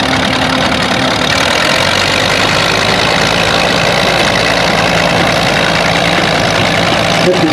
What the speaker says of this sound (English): the 1937 McCormick Deering